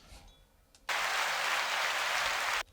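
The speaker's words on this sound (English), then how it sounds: "That applause is for you." A burst of applause plays from a podcast soundboard, cutting in abruptly as a dense, steady clapping roar that holds for nearly two seconds and then stops dead, with quiet room tone on either side.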